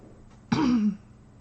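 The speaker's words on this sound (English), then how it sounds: "I'm gonna sit here and clear my throat a bunch" One short, close throat clearing, a quick guttural rasp lasting under half a second, set against a quiet room.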